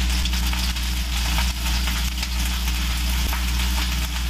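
Eggplant pieces frying in a hot pan with lemon, a steady close sizzle with crackling spits running unbroken throughout, no voices.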